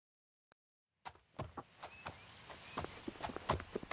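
A horse in the game Oblivion trots along, its hooves clip-clopping in an uneven close rhythm on the ground after a second of near silence broken by one faint tick.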